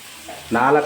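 Finely chopped onions, about four medium ones, tipped into a pan after greens and frying for a pepper chicken dish, a quiet sizzle rising suddenly into a steady, louder crackle halfway through.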